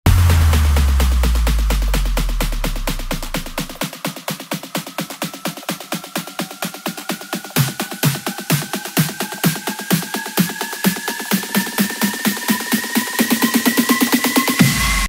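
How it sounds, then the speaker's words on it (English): A deep sub-bass drop fades out, then a snare roll speeds up and intensifies while rising synth sweeps climb steadily, building to a loud peak. "I added a sub-drop sound, an impact sound, three risers."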